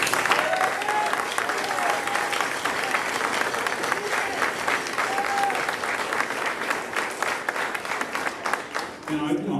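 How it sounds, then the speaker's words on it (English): A concert audience at a spring pops concert gives the students a sustained round of applause, dense steady clapping that fills the hall and tapers slightly at the end. "I want to take a second and have a round of applause for all of our students"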